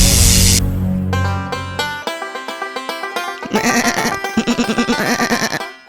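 A cartoon goat, a demon magically turned into one, bleats loudly in a rapid series of wavering, pulsing calls after a short whoosh of magic sound.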